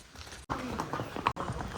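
Horses' hooves clip-clop along a trail at Matheran hill station during the monsoon, a quick, close, continuous patter of hoofbeats with one brief break.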